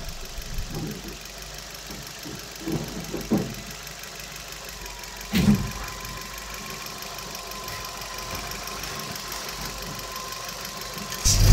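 A Suzuki Carry van engine idles roughly at close range, a steady low rumble with a faint knock, plus a few brief clunks and a louder thump near the end.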